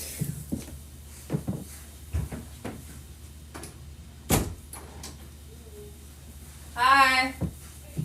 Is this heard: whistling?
no